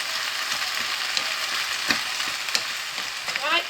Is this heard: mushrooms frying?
yes